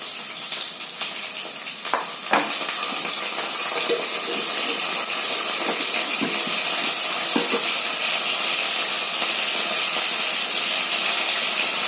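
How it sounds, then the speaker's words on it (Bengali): Onion paste frying in hot oil in a pan on a gas stove, a loud steady hiss and sizzle with crackles and occasional spoon scrapes, no talking. "গ্যাসে রান্না করলে কি হয় সব ছিটকে ছিটকে তেলগুলো সব পড়েছে এবার দেখো পেঁয়াজ পেস্ট দিয়ে দেবো"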